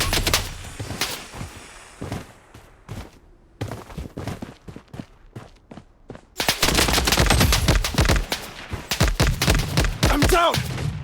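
Automatic gunfire in the shooter game Blood Strike, rapid bursts and single shots that turn sparse, then a dense, loud barrage in the second half with booming impacts and brief voice lines.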